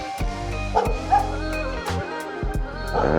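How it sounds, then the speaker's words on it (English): A dog at a house in St Jago Heights, Spanish Town, Jamaica, barks repeatedly at close range in irregular bursts, with yelping and whimpering tones over a low background rumble. "Bad dog over here, so someone don't really want to go too close."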